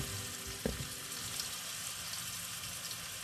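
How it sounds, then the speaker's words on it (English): Brisket laid fat side down sizzles steadily in a hot pan, a close, continuous frying hiss with a brief clank near the start and no talking. "Can you hear the sizzle?"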